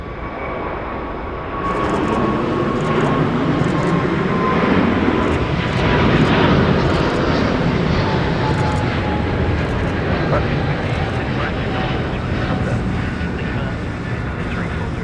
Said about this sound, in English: Etihad now on the roll,